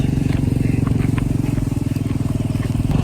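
Motorcycle being ridden along a rainy mountain road in Nan, its engine a steady, close low throb with a rapid pulsing rhythm throughout, plus faint ticking and rattling on top.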